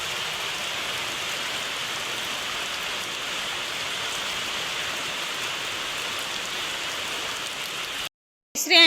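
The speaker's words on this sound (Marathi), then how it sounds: "बघा पाऊस बऱ्याच वेळ झाला तसा असाच पाऊस चालू आहे" Steady rain pours down continuously with an even, dense patter for about eight seconds, then cuts off briefly before a short burst of noise at the end.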